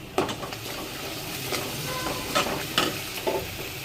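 Green masala being stirred and fried in a pan over high heat, with a steady soft sizzle and several scraping strokes of a spoon against the pan.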